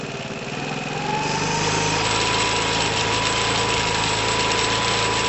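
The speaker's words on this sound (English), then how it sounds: "So that's it, just idling," A 2012 Piaggio Typhoon scooter with a swapped engine and carburettor idles on its own, a steady light buzzing putter with some rattling that settles into an even, close and fairly loud drone.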